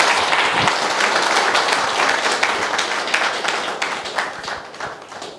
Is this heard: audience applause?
yes